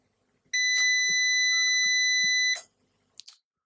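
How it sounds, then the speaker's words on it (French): A single sustained electronic buzzer tone from an uninterruptible power supply (UPS), shrill and steady for about two seconds, with a few soft clicks around it and brief noises after it stops. "il y a un buzzer sur tous les onduleurs"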